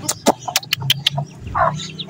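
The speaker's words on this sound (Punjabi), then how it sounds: "ਦੇਖੋ ਇਹ ਤਾਂ ਪਾੜੇ ਵਾਲੀ ਮੁਰਗੀ ਹੈ ਨਾ" A hen clucks while her chicks peep close by, with a quick run of sharp, high chirps followed by a fuller cluck near the end and no talk over it.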